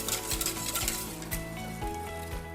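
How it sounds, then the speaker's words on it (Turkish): A spoon stirring thick corn soup in a pot, with a steady low bubbling hiss and soft repeated scraping strokes, fairly close and moderately quiet, no voices. "Güzelce karıştıralım."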